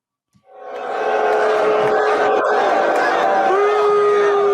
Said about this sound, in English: That's Jordan Montgomery being booed off the field.